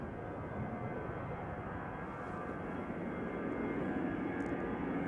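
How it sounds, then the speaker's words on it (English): An EasyJet Airbus A320 departs from Schiphol, its jet engines giving a steady, broad roar that swells slightly as it passes, heard from a distance with no talk. "next airplane to come this way should be an EasyJet A320 to London Luton"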